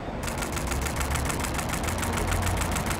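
Nikon D850 digital camera firing a continuous burst at 7 frames per second, a steady rapid train of shutter clicks evenly spaced and fairly loud, close up, with no talking.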